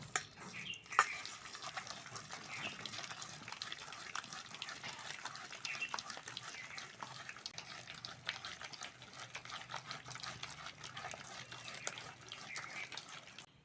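Water pours into a bowl in a home kitchen, a soft, steady trickling wash that runs fairly faintly and evenly throughout with no talk.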